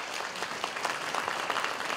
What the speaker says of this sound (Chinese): 在表扬之前，我们是不是先来给所有稍后要上台接受表扬的这一些呢伙伴们一个热情的掌声好吗？